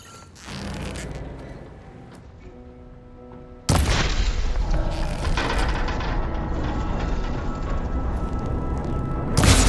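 A machine's arm coupling is shot in Horizon Forbidden West: a sudden loud mechanical burst and crunching clatter follow a stretch of quieter whirring and tonal machine hum, then sustained dense rumbling with a final louder hit.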